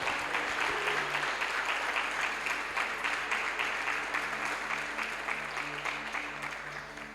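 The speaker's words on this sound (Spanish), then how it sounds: "Dale un aplauso a Jesús." A church congregation claps together during a Spanish-language service, a sustained, even round of applause that slowly fades toward the end, with faint musical tones underneath and no voices.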